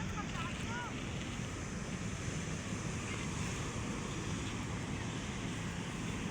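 Sea waves wash along the Manila Bay shore under an overcast sky, a continuous broad rushing mixed with heavy wind buffeting on the microphone, steady and fairly faint.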